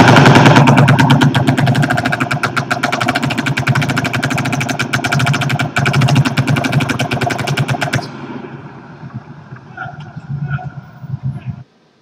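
Sustained bursts of fully automatic gunfire from the Las Vegas mass shooting, loud and rapid, for about eight seconds, then quieter scattered shots and background noise.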